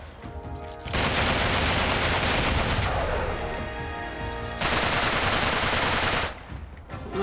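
Heavy gunfire in an Uncharted 3: Drake's Deception shootout under sniper fire: two long, loud stretches of dense, rapid shots, with a brief quieter lull between them and a sharp cutoff at the end.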